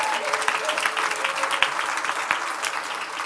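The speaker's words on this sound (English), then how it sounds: "please give a round of applause to my mother and my stepfather right here" Audience members at a talk applaud steadily, a dense wash of clapping from many hands with scattered sharper claps standing out, moderately loud and continuous throughout.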